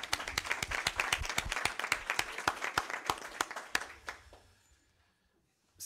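Lively clapping from a crowd at a municipal council meeting, dense and close, lasts about four seconds before thinning out and fading into near silence.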